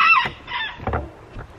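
Chickens out on pasture cluck in a few short, close, loud bursts, with quieter clucks trailing off between them.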